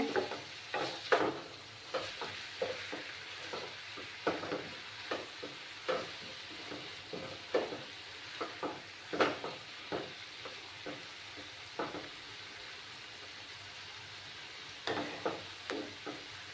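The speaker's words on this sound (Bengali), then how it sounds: "মশলাটা কষিয়ে নেব ভালো করে" Bottle gourd peel and spices frying in a pan, with a soft continuous sizzle broken by frequent sharp scraping strokes of a spatula in an irregular stirring rhythm.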